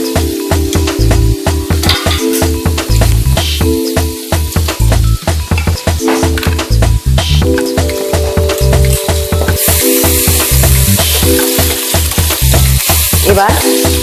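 Butter sizzles and spits loudly in a kadai over a gas flame, a dense continuous crackle broken by repeated scraping stirs, close up and with no talking.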